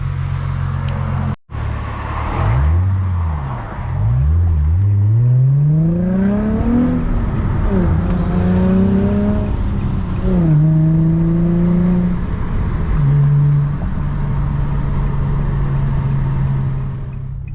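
Manual Infiniti G35 coupe accelerating hard on a pull, the engine note climbing through several gears in rising sweeps with brief shift dips, loud and close from inside the cabin, no talking.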